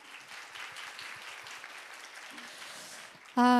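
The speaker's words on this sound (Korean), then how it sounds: "다시 한번 큰 박수 부탁드립니다" An audience at a future-society scenario contest presentation session gives steady, moderately soft applause, ending with a brief loud electronic tone.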